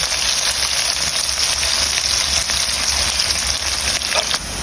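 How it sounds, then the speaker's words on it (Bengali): Chopped onion and green chili fry in hot oil with a loud, steady, hissing sizzle that holds constant throughout and fades slightly right at the end. "তেল গরম হয়ে গেছে, এখন দিয়ে দিব পেঁয়াজ কুচি, সাথে দিয়ে দিব কাঁচামরিচ কুচি।"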